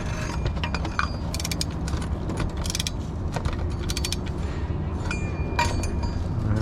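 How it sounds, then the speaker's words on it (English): A filter wrench ratchets and grinds as it loosens the old oil filter on a 2003-2008 Toyota Corolla, with steady close mechanical clicking and metallic scraping bursts throughout and no talking. "grab your filter wrench and get to loosening the old filter off"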